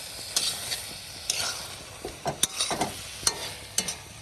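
Kochu (taro) leaf curry being stirred and fried in a pan: a soft background sizzle broken by a series of sharp scraping clicks and short stirring bursts, close by with no voices.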